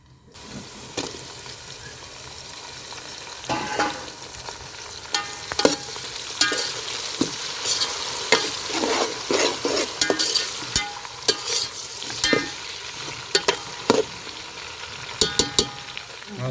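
Tomato pieces frying in a pan for khushka rice, with a steady sizzle broken by repeated sharp scrapes and clacks of a spatula stirring, close up and without talk.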